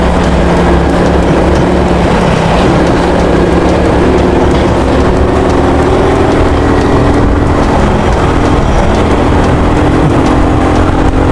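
Heavy, jammed road traffic around Bonifacio and Market Market, heard from a motorcycle, comes through as a loud, constant engine drone and road roar with wind buffeting, steady throughout without pauses.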